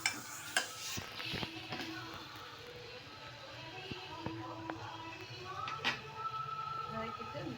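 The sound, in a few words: sautéing spices in a pan for rasam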